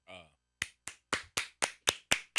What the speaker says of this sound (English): I'm going to stand up and clap for you.